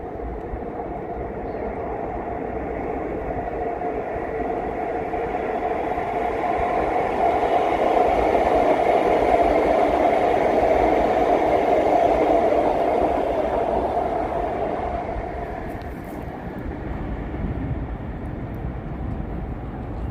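An all-electric REM train on a test run passes with a steady, smooth mechanical rumble. It swells to its loudest in the middle stretch, then eases off while still running, with no voices.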